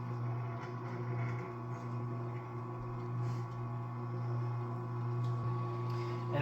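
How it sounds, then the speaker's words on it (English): Water boils inside an NBR 2000+ glazed nut roaster during its cleaning cycle, heard as a steady machine hum with a low bubbling rumble and faint crackles throughout. "you can actually hear that the water is boiling inside the roaster"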